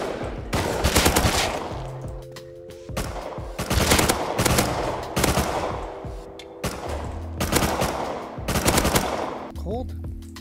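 Gunfire in the survival game Rust: loud bursts of rapid automatic fire come in several separate volleys with short pauses between them, over faint background game sounds.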